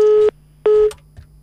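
Telephone busy signal after a call to a radio show drops: two loud, steady electronic beeps, each about a quarter second, separated by a short silence, with no talk over them.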